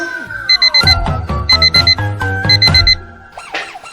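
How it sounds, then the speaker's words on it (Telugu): A loud mechanical alarm clock rings in rapid repeated bursts, with a bright metallic bell tone pulsing several times, then a short pause and softer warbling. "మళ్ళొత్తాంది అలారం"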